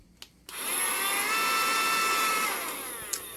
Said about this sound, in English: You got a car vacuum.